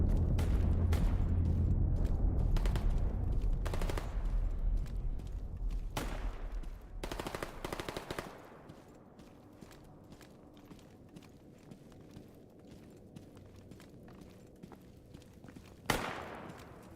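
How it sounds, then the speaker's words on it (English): Gunfire in the STALKER Gamma video game sounds as sharp bursts and single shots across the first eight seconds, then fades to quiet ambience with a lone louder crack near the end. "A lot of shooting over there."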